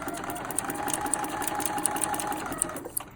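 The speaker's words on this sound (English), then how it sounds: "then you stitch back in the exact same stitches, and then you go forward" A home sewing machine runs a short burst of stitching, reversing then going forward, with a steady close mechanical whir and small ticks.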